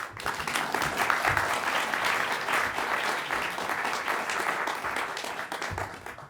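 A conference audience in San Diego breaks into sustained applause to welcome a speaker, many hands clapping steadily and evenly for several seconds at a full, close level.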